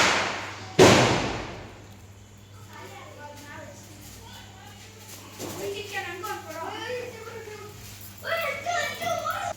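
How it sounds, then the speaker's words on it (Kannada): Diwali firecrackers set off by children at a family home in the evening, one sharp loud bang near the start, then scattered pops and the chatter of children's voices in the background. "ಅವ್ರು ಆಲ್ರೆಡಿ ಪಟಾಕಿ ಹಚ್ಚಲಿಕ್ಕೆ ಸ್ಟಾರ್ಟ್ ಮಾಡ್ಕೊಂಡಿದ್ರು"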